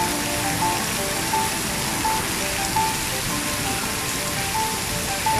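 Heavy rain pours steadily at National Stadium, Singapore, a dense, unbroken hiss of water striking surfaces that holds at an even, loud level throughout, with no voices.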